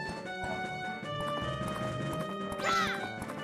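Epona the horse in The Legend of Zelda: Majora's Mask 3D, with steady clip-clop gallop hoofbeats over game music and a brief whinny-like burst near the end.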